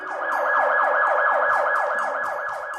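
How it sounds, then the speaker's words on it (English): Emergency vehicle siren wailing loud and close in a steady rapid repeating cycle, rising and falling continuously, heard on its own without talk. "That siren is your signal that deals are closing in on you."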